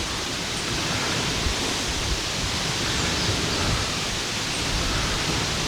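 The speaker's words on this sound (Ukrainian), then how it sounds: "Зараз заливаємо водичку її." Warm water is poured into a container to soak food before hot smoking, a steady, even rush of flowing water that holds at constant loudness from start to finish.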